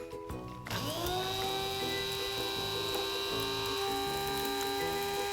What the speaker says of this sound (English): as you can see, we now have a very nice fine grind of our seasonings